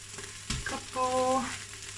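Onions frying in an Instant Pot, a steady close sizzle with a brief stirring scrape partway through and no talking.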